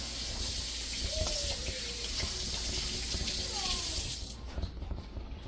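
A kitchen tap runs steadily as hands are rinsed clean while seasoning chicken for Jamaican brown stew. The close, hissing flow continues until the water shuts off near the end, leaving faint handling sounds.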